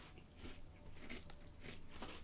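Someone biting and chewing thin, light shrimp chips, several crisp crunches in quick succession close to the ear, fairly quiet with no talk over them.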